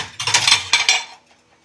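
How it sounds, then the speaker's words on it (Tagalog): Plates and cutlery clink and rattle as dishes are fetched from a dish rack in a home kitchen during a town fiesta, a short burst of close clatter that fades out. "kuha tayo ng mga pinggan"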